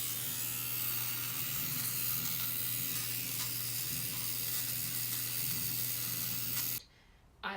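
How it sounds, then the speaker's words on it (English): A small motorized sweater shaver whirs steadily over the cabled portions of a knit sweater, a continuous close buzzing hum that cuts off abruptly near the end. "just working on shaving down the cabled portions of the sweater."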